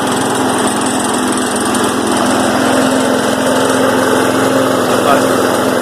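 Small gasoline lawn mower engine being run with no oil in the crankcase, already warm from earlier running, giving a steady, loud, continuous buzzing drone close by that holds even for the whole stretch.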